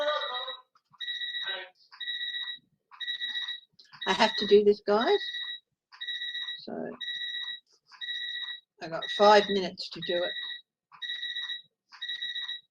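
A phone alarm beeps in a regular repeating pattern of short two-tone pulses, heard clearly while people talk over it at several points.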